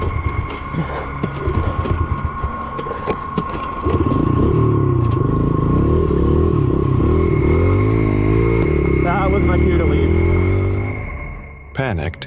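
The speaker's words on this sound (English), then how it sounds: "Finally, the motor roared to life, and he sped away" A motorcycle engine sputters through several uneven starting attempts, then catches and revs up and down loudly for several seconds before cutting off, with a voice talking over it.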